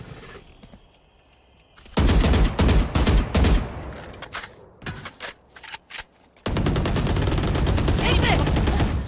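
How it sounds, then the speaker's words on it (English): Gunfire in the tactical shooter Valorant: loud bursts of rapid shots, then several separate cracks, then a long dense stretch of sustained automatic fire. "I just got shot through the floor."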